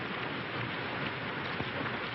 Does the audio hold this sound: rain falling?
yes